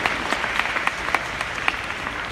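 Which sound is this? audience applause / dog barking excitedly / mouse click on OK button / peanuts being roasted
audience applause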